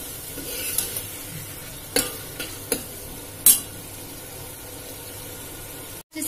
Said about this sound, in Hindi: उसको बचे हुए को भी हम इसी मसाले के अंदर अच्छे से पका लेंगे।